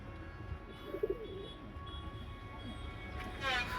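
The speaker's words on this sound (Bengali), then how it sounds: "আমার এই লফটে সবই হাই ফ্লায়ার কবুতর আমি পালার চেষ্টা করতেছি" High flyer pigeons in a loft give a few soft, low coos at a distance, faint against a quiet background hum with a brief chirp near the end.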